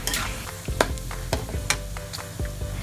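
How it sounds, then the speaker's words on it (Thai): Pork frying in hot oil for a Thai crispy pork chili paste, a steady sizzle with sharp crackles and pops as it is stirred, close and continuous throughout. "เราจะเจียวหมูแค่ให้มีความเหลืองนะคะ"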